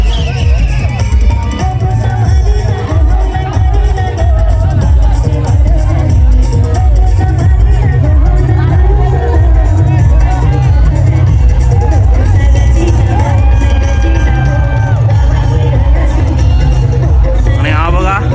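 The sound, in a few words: crowd celebrating Holi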